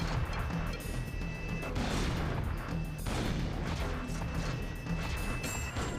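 Rapid, heavy gunfire blasts at cocoons in the video game Combat Queen, loud crashing bursts repeating in dense volleys with booming impacts, no talk over them.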